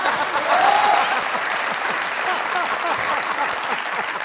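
A studio audience at a comedy talk show claps in a dense, sustained wash of applause that holds at an even, fairly loud level throughout, without a voice on top.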